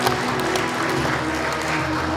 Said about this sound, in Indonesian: Kita beri tepuk tangan untuk 15 provinsi tersebut.